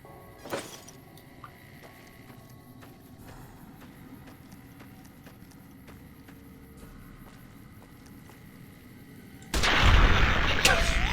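An explosives crate detonates in Fallout New Vegas: after quiet ambience with a few faint shots and one sharp bang early, a loud roaring blast erupts near the end and rumbles on to the close.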